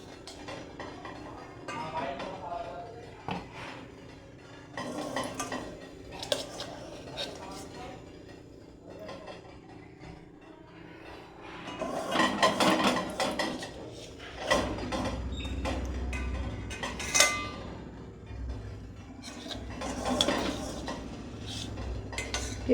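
A spoon scoops hot saffron-coloured modak filling from a pan, with scrapes and metallic clinks against the vessel recurring close by, while a voice talks at times between the strokes.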